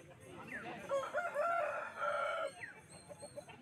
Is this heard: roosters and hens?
yes